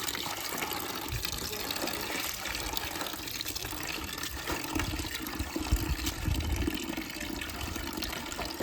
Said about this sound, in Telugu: ఇట్లా ట్యాప్తో వాటర్ మొత్తం వదులుకొని 1-2 సార్లు హ్యాండ్తో నీట్గా అయితే వాష్ చేయాలి.